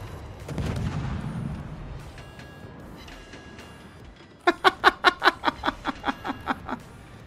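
The guns of a Tier IX European destroyer, HSwMS Östergötland, fire in World of Warships: a rapid string of about a dozen loud, evenly spaced booming shots after a quieter stretch of muffled game noise and brief laughter.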